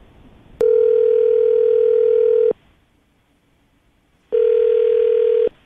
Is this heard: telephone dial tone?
yes